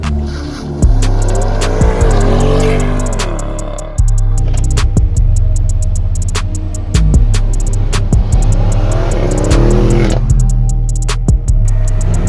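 BMW M850i xDrive coupe driving hard, loud engine revving and rising through gears with sharp shift breaks, tire noise and a sporty roar close up throughout.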